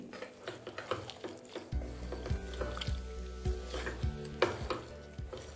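Mutton being stirred with mustard oil in a hot pan for tawa fry, a close sizzle under repeated scraping and clanking strokes of a spatula against the metal at a steady rhythm.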